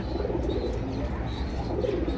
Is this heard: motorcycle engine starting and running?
no